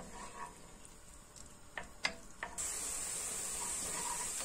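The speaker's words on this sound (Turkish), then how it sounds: "Şimdi soğanımı ve sarımsağımı kavuruyorum." Chopped onion and garlic sautéing in a pan for a stuffed okra and meat dish give a soft steady sizzle, with a few light clicks before the hiss rises and holds close and even.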